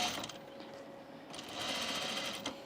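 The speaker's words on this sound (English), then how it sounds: "so we have our straps to sew." A home sewing machine stitches fabric straps for a Teia dress at a quarter-inch seam allowance, a steady close whirring hum with a brief pause midway before running on again, with no voices.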